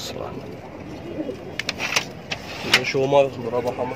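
Domestic pigeons in a loft in Ain Shams, Cairo, give low repeated coos near the end, under men chatting and a few scattered knocks.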